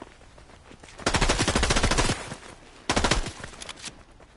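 A turret machine gun in Fortnite fires two long, rapid, loud bursts of evenly spaced shots with a short pause between them, with no talking over them.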